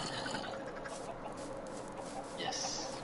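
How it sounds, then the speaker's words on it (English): Minecraft chickens clucking over a noisy, busy game background, their clucks soft and scattered, with a brighter burst near the end. "More chickens."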